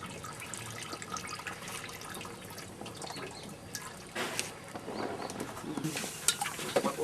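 Cooked locust beans are washed in water, with splashing, sloshing and dripping that grow louder and busier toward the end, over a soft outdoor background.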